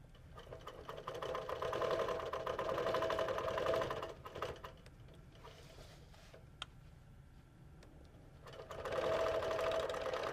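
A sewing machine stitches a quilt along a curvy ruler, a fast whirring patter that runs in long stretches, eases off through a quieter pause, then speeds up again, close and fairly soft, with no speech.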